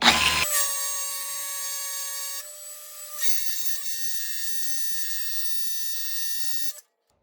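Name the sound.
sanding a wheel with sandpaper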